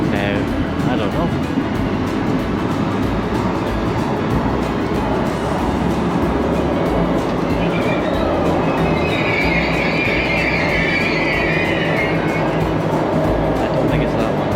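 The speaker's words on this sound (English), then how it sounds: "Oh, there's a train." A train rolling past near Copenhagen Airport on the route toward the Øresund Bridge, a steady continuous rumble of railcars with some wheel squeal, loud and close, with people talking over it throughout.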